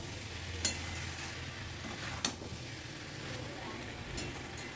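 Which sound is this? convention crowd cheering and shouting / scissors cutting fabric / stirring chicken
stirring chicken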